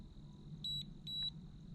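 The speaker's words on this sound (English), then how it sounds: "So there is an alarm when you get too far away." Two short, high-pitched electronic beeps from a Haiboxing Surge X03 RC boat's out-of-range alarm sound in succession, faint and evenly spaced over a quiet low hum.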